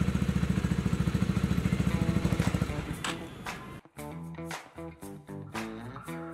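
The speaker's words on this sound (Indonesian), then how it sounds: "Nah, mesinnya udah mati sendiri nih teman-teman ya." A Honda CBR150R idles with a steady pulsing beat, then its engine cuts out after a remote GPS shutoff, the throb stopping abruptly and leaving a quieter scene that is close by and fairly loud.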